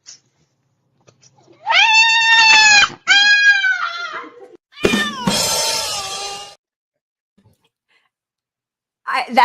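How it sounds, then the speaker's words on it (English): A pet cat meows several times up close, drawn-out rising and falling cries in a cluster of four or five calls, loud and clear with silence between them. "You don't have to be scared of the kitty."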